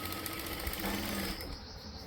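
Sewing machine running in a fast steady whir, stitching fabric for a sleeve, close and loud without pause before easing off at the end.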